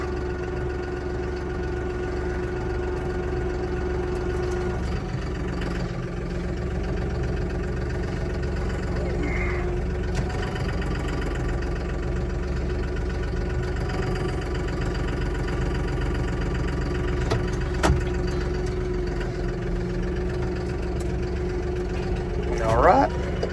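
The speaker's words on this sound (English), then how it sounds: "I am gonna leave this tractor running because I gotta have it shortly." A tractor engine idles steadily in freezing weather, a continuous low rumble with a faint mechanical knock, running unattended for the whole stretch with a few brief clanks near the end.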